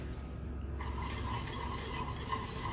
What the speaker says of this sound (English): And then you're going to stir it.